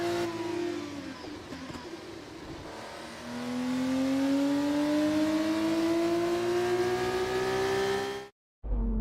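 A PHM by Charouz race car in a racing video game rolls into parc fermé. Its engine note drops, then climbs steadily in pitch as it revs up loud and close, and it cuts out abruptly at the end.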